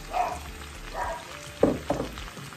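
Onion fries in a pan with a faint, steady sizzle, broken by a few soft stirring knocks and scrapes near the end.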